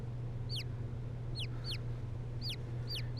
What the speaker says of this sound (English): Look at the cute little birdies.